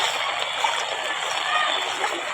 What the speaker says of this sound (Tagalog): baha dito ngayon sa daanan